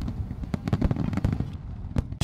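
Fireworks at the 2012 Shikaoi town fireworks festival in Tokachi burst in a dense, rapid series of sharp cracks and pops, loud and close with little pause between shots.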